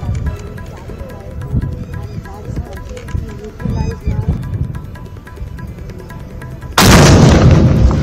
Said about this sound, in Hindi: एक बार फिर धमाके की आवाज को सुनिए, धमाका कितना जोरदार था